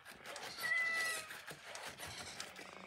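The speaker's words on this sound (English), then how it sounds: "it's a really nice purr" A faint, soft purr comes from the Elephant Robotics Metacat 2.0 robotic pet cat, with a brief high synthetic meow-like tone near the start and quiet handling noise.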